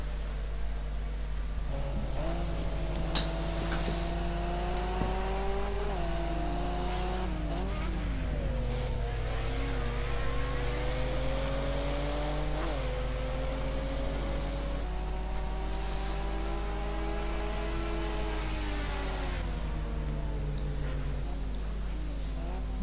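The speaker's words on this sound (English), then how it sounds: "Let's follow him for a minute around Zolder." Ford Sierra Cosworth Group A touring car lapping the Zolder circuit, engine note rising and falling steadily through gear changes, loud and continuous with no talk.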